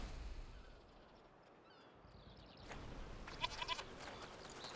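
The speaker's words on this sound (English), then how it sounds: "That's called bleating." Goat bleating in the video game A Plague Tale Requiem, a faint, brief wavering bleat rising over quiet outdoor ambience near the end, with no talking.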